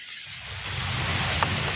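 Heavy early-morning rain pours steadily, a dense loud hiss of drops on surfaces that swells after a quiet start.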